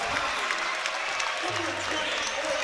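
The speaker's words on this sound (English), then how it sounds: "And the crowd for Norwalk comes to their feet over here behind us" Norwalk crowd at a girls' regional championship basketball game rising to its feet, a broad steady roar of cheering and applause throughout, with a voice talking over it.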